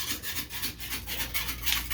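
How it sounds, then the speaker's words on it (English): Rapid back-and-forth sanding strokes on an eroded plumbing part, a close, loud, rhythmic rasping scrape repeating about five times a second with no talk. "this we can just sand off and reuse"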